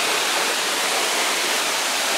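Tad Yeuang waterfall in southern Laos pours down in a constant, dense hiss of falling water, loud and close, with no voices over it.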